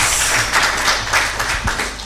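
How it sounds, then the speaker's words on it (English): Attendees at a grantee and partner gathering applaud after a presentation, a brief, fairly loud wash of clapping from a room of people. "Let's give him a round of applause, guys."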